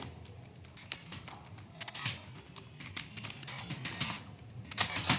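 Computer keyboard typing while entering text into an Excel sheet: quick, irregular close clicks of keys in uneven bursts, with no voice over them.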